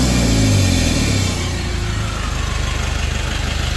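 Mitsubishi L300 Euro 4 turbo diesel with a check-engine fault running close up, a loud rev dropping into a steady, rough, pulsing idle with a faint whine above, and no voices.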